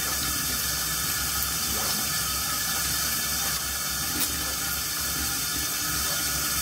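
Tap water runs steadily into a bathroom sink, making a constant close hiss and splash that continues without pause.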